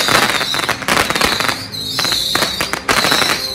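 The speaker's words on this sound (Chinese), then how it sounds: "一阵风炮声响起" Firecrackers burst in dense, rapid crackling volleys during a Lantern Festival temple procession blessing homes in Taitung, loud and close with shrill whistling streaks over the popping.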